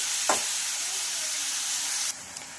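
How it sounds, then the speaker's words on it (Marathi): Spinach and peas frying over a low flame, a steady soft hiss of sizzling with a brief stir near the start, the sizzle dropping quieter near the end. "तर मंद गॅसवर याला 2 मिनिटं छान फ्राय होऊ द्यायचं आहे।"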